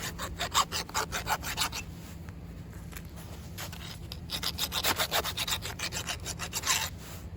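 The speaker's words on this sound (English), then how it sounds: "So what I like to do, I like to file it down." File rasping a PVC pipe fitting smooth, rhythmic back-and-forth strokes, close and moderately loud, in two runs separated by a brief quieter stretch.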